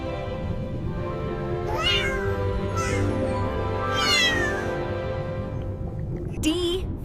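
A cat meows clearly several times over a steady background, giving drawn-out, rising and falling cries, with a short, higher meow near the end.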